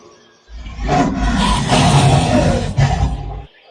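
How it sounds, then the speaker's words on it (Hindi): A lion roars in a Hindi Panchatantra cartoon about a lion and a rabbit: one loud, close, sustained growling roar lasting about three seconds, standing alone without speech. "ये सुनते ही शेर दहाड़ कर बोला"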